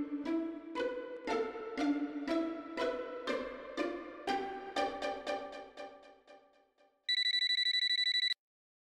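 A telephone rings in a Marathi TV drama, a run of rapid bell-like tones that fades out, followed by a loud, sustained electronic ring burst, with no one talking.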